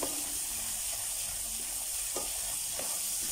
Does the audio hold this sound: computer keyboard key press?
no